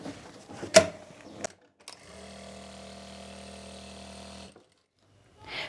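A sewing machine runs steadily for about two and a half seconds, stitching elastic on loose palazzo pants, its motor buzzing with a regular whirr. Brief handling knocks come before it, and silence follows.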